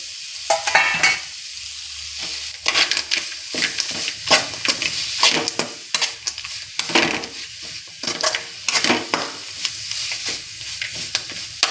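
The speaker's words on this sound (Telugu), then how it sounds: "మామిడికాయ తురుము వేగిందండి వీటిలోకి మనం పల్లీలు యాడ్ చేసుకున్నాం" Grated raw mango and fried peanuts are stir-fried in a pan for mango pulihora, giving a close, loud sizzle with irregular scraping and clinking of a spoon against the pan and no talking.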